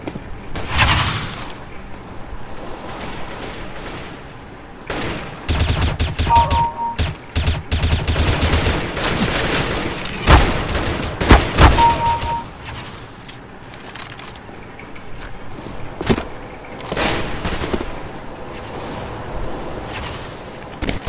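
Rapid bursts of Counter-Strike gunfire crackle almost throughout, with loud volleys, single shots and booming impacts layered over constant in-game noise and brief voices.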